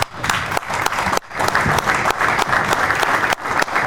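An audience applauds at an engineering talk, loud close clapping from a crowd in bursts with brief breaks, rising and settling several times.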